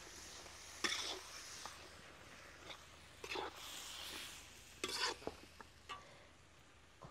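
Brinjals sautéing in a pan over a wood-fired chulha for a dum biryani, with a steady sizzle broken by several louder scraping stirs.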